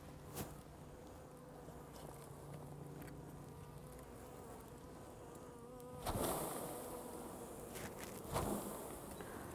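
Honey bees from a package hum and buzz in a continuous soft drone, close and quiet, with a few handling knocks and rustles.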